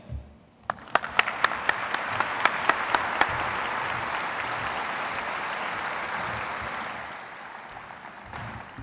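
At a 2020 high school graduation ceremony, a few sharp individual claps ring out first, then swell into sustained applause from the audience that holds steady before tapering off near the end.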